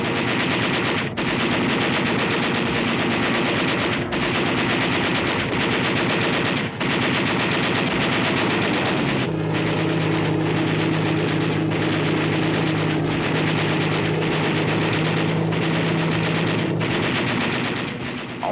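Aircraft machine guns strafing Japanese fighters during the Pacific war, a long, loud, continuous rattle of rapid fire broken by brief pauses and sharp bursts, with an engine drone underneath in the second half.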